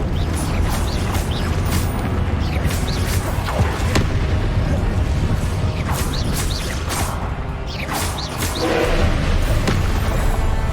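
Confringo spell explosions in a Harry Potter video game fight, with loud, dense booms and crashes striking one after another in a constant chaotic barrage of whooshes and impacts.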